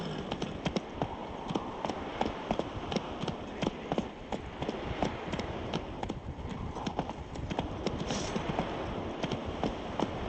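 Hooves of Geralt's horse Roach galloping in The Witcher 3, a fast steady clip-clop rhythm close by, running continuously with a soft background bed and no talk.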